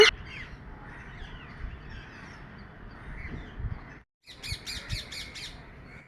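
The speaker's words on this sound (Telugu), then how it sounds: "మా ఇంటి దగ్గర చెట్టు పైన చూడండి చిలుకలు అయితే ఎంత చక్కగా అరుస్తున్నాయో" Parrots squawking in a tree, harsh calls overlapping near and far, ending in a quick series of five sharp, loud squawks.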